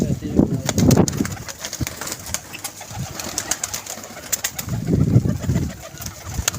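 A female pigeon held at a pigeon club coos in low, throaty bursts, near and moderately loud, with scattered clicks and handling noise between the calls.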